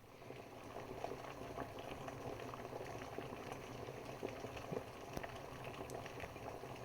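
Water comes to a full rolling boil inside a Quest 600W travel kettle, a soft steady bubbling and rumbling with faint crackles, heard up close and alone.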